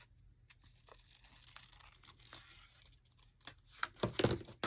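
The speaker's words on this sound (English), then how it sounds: "So let's just fold it and cut off that much more." Paper being folded and cut for a large envelope pocket on a pyramid flip book: soft crinkling and rustling throughout, building to louder tearing and crunching bursts near the end, close up with no talk.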